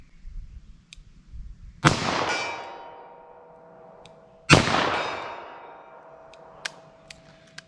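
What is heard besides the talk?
38 Special revolver firing shots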